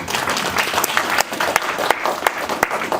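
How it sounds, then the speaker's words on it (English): Audience applause at a fatherhood policy symposium, a dense burst of many hands clapping with a few sharper individual claps standing out, loud and close, no talking. "Let's clap it up for Fran."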